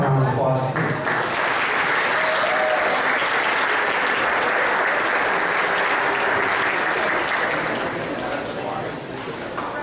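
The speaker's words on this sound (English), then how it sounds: "stand up and give them a round of applause" Sustained applause from a large crowd at a company holiday party, loud and steady throughout, with many hands clapping at once and a slight fade near the end.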